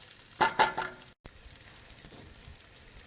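Garlic sizzles in a pan for a mussel pasta sauce, with a couple of sharp spattering bursts near the start and then a quieter, crackling fry, and no voices.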